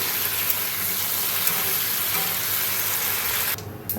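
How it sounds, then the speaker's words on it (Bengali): Potatoes fry steadily in hot oil at close range, a dense, continuous sizzle with faint stirring ticks and no voices, dropping off briefly near the end. "আলুটা ভেজে নিচ্ছি।"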